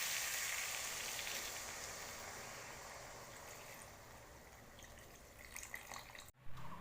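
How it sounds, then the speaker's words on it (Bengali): Water is poured into a pan of katla fish curry with ridge gourd and potato, giving a steady hissing sizzle and rush that fades into lighter bubbling, close and fairly quiet, with no talking. "এখন দিয়ে দিচ্ছি জল।"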